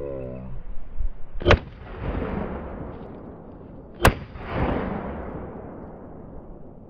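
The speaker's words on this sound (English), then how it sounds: "All right, firing." Two sharp, loud gunshots about two and a half seconds apart, each a near, hard crack followed by a decaying rumble, from a gun firing Hornady hollow point bullets into drywall in a ballistics test.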